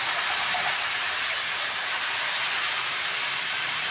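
Amaranth leaves (thotakura) added to hot oil with cumin, urad dal, chana dal and mustard seeds, frying in a loud, even, continuous hiss that stays close and unbroken.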